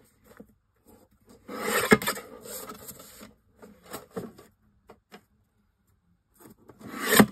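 Scissors or a trimmer cutting off a piece of decorated paper for a papercraft project, heard as close, uneven rasping and snipping bursts with short pauses between cuts.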